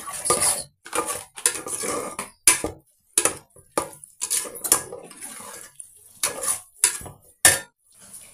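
Spice powders such as coriander and cumin being stirred into egg biryani in a pot, heard as repeated metallic scrapes and clinks of a spoon against the pot in short irregular bursts with brief pauses, close and fairly loud.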